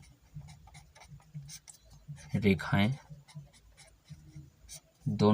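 Marker or chalk scratches and taps on a board during a maths lesson, short faint strokes scattered around a teacher's voice speaking in Hindi.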